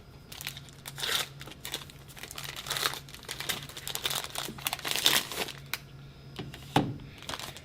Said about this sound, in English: you can do it with a chocolate bar, but when you open it, put it on the plate so the flat side is up